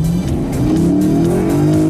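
A Lexus F Sport accelerates hard in Ciudad Real, its engine note climbing steeply in pitch through the revs, loud and close, with tyre noise and no voices.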